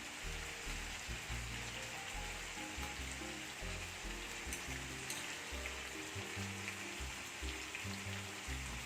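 Kashmiri red chili paste frying with mutton for a Kashmiri-style rogan josh curry, giving a steady, close sizzle that crackles and spits without pause, with no talking.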